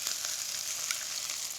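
Eggs cracked into rice sizzling in a hot pan, a close, steady hiss of frying with faint crackles, brief and unbroken with no voices.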